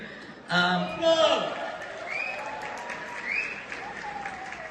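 Applause for Minister Lache at a reception: a crowd bursts into clapping that swells and then fades, with a speaker's voice running over and after the claps and a few chuckles.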